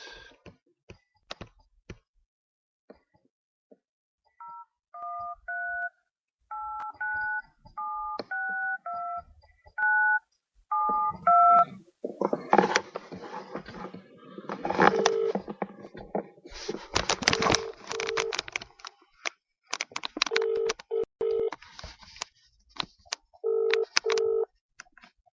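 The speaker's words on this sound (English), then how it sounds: "I'm phoning to speak to Mr. McGinn, please." A telephone number is tapped out as a quick run of touch-tone beeps, followed by the repeated ringing tone of the call going through, clear and close with no voices.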